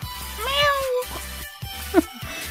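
A cat in a video game meows twice, a drawn-out meow then a short one, over a low steady background hum.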